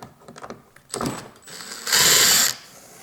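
A screwdriver works Phillips head screws out of a Ford Mondeo front door panel, with faint mechanical clicks that build into a loud, steady whirring burst about a second long near the end.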